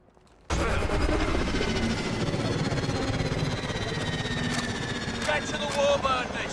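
A steady, loud roar from a warbird aircraft engine in Call of Duty Advanced Warfare that kicks in abruptly and holds throughout, with faint overlaid effects near the end.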